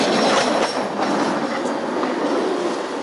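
Tram number 12 rolls past on its rails, a steady close rumble with faint clatter and a brief squeal, no talking.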